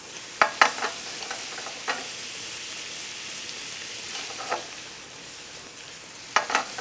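Pancetta frying in a pan, giving a steady, close crackling sizzle broken by a few sharp scraping stirs near the start and end, with no one speaking.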